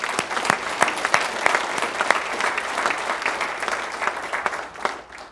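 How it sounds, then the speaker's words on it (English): A township meeting audience claps during a State of the Township address, steady mid-distance applause from a room of people that holds for several seconds and tapers slightly at the end. "I want to just give them a round of applause"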